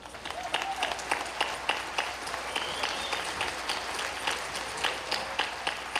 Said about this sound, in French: encore une fois, j'aimerais qu'on les applaudisse